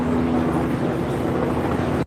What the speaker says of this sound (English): I know this helicopter is not following me.